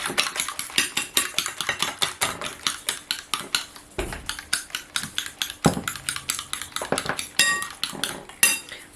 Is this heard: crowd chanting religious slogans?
no